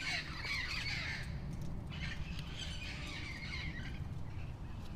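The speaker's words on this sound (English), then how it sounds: "why are these birds always ruining my video?" Birds squawk outdoors in loud, continuous harsh calls, with bursts of raspy noise throughout and a steady low rumble of ambient sound underneath.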